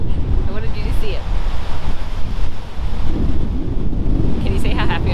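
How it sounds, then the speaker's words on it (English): Strong wind buffets the microphone at Cape Le Grand beach in Western Australia, a loud continuous roaring rumble with gusts rising and falling, while a voice speaks faintly underneath. "I hope you can hear me through the wind"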